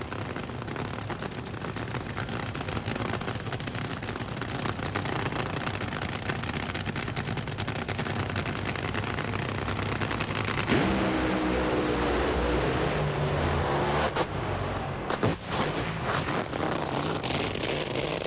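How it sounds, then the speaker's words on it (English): A brand new NHRA drag racing car blows over and crashes at Brainerd, Minnesota: a loud, constant roaring engine and crowd wash, then a sudden harsh, rattling burst of crashing noise midway, followed by sharp bangs near the end. "One nasty blowover destroyed that brand new car"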